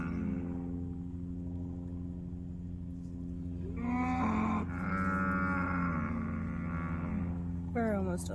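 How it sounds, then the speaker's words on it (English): Cattle on a street drive, including calves, moo repeatedly: a long, drawn-out low call followed by shorter bellows, close and clear over a constant engine-like hum, with no talking. "I'm waiting for this cow drive to end."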